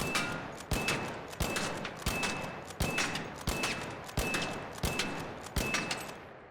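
Ten evenly spaced, loud rifle shots from the Renegade in ARC Raiders, each a sharp crack with a short ringing tail, fired in steady semi-automatic rhythm with no talking.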